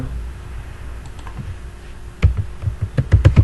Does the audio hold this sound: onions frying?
no